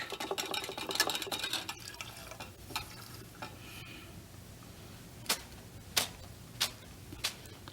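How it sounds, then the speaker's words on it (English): A paint brush is swished and tapped while being washed, giving quiet wet swirling and scrubbing at first, then a series of sharp, evenly spaced knocks of the brush being beaten against a surface. "Wash your brush."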